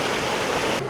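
Cold spring water at Bulao Cold Spring pours down from above in a dense, steady, close rushing hiss with no break, filling the whole moment.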